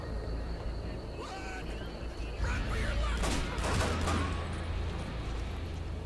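A few handgun shots in the video game Hatred, scattered sharp pops at mid-distance over a droning background with a voice present.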